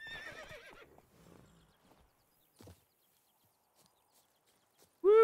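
A horse whinnies loudly near the start in the video game The Witcher 3, a few faint hoof thuds follow through a quiet stretch, then a sharp, loud neigh cuts in at the end.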